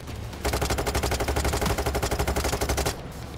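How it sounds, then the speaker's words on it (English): Rapid automatic gunfire in Payday 3 aimed at a Bulldozer enemy, a loud sustained burst of evenly spaced shots lasting about two and a half seconds, then stopping. "The rest of Bulldozer I'm shooting at, it's not died."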